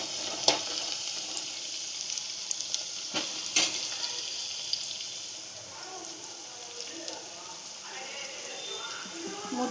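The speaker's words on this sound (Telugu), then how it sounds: "ఫ్రై అయినాక చికెన్ వేసుకున్నాం." Chicken pieces hit a pan of browned frying onions and sizzle with a bright, steady crackle, punctuated by a few sharp clinks of a spoon against the pan.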